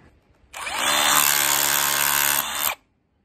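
A hammer drill bursts into a single loud, steady run of a little over two seconds on stone in a rice paddy, then stops abruptly into quiet.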